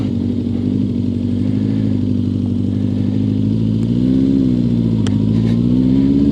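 A motorcycle engine, either a BMW R65 or a Suzuki Katana fresh from a full carburettor rebuild, runs steadily with a low rhythmic thrum, close and loud, rising slightly in pitch partway through.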